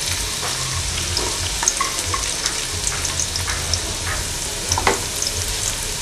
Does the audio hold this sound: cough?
no